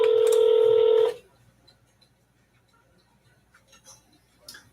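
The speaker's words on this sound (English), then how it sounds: "Dialing the next number." A telephone keypad sounds a steady dialing tone for about a second, loud and close, before dropping to near silence with faint background shuffles.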